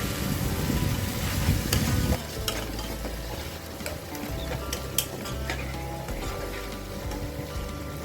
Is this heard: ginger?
yes